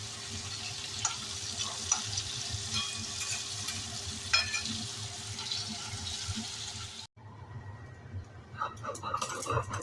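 Pointed gourd (potol) fries in a pan with a steady sizzle and occasional stirring scrapes, then the sound cuts abruptly to a quieter, different clattering noise.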